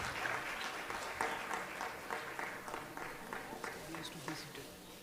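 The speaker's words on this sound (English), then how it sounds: "So please give a bigger applause for our founder, CA Payal Sarda Rathi." Audience applause for the founder at a live grand finale talent event, a steady wash of clapping through the whole stretch with crowd noise and a speaking voice over it.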